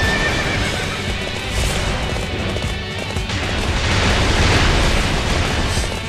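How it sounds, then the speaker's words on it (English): A horse neighs and gallops in the video game Dynasty Warriors 8, with loud whinnies and rapid hoofbeats over a dense wash of battle noise and booms. "Can I get a horse in here?"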